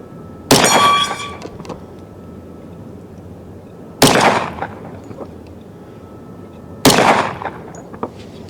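Three loud, sharp gunshots from a Smith & Wesson M&P 10mm Auto pistol firing truncated-cone ammunition outdoors, spaced a few seconds apart, each with a sudden crack and a short ringing decay.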